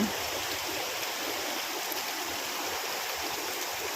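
Mountain spring water flows outdoors in a rural province, a steady, fairly faint rushing hiss that holds evenly throughout with no talking.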